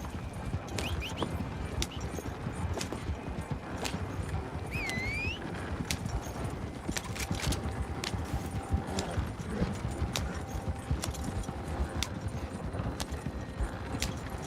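Horse hooves clip-clop steadily throughout a ride in Red Dead Redemption 2, a continuous rhythmic patter under game ambience with a brief whinny-like squeal and occasional background tones.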